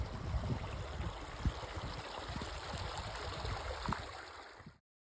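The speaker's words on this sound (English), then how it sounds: "Water's flowing good." Bear Creek stream water flows steadily at a campsite along a New Mexico trail, a constant broadband rush and trickle with small gurgles, fairly close and continuous, with no voices.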